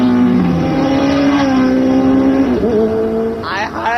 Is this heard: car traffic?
yes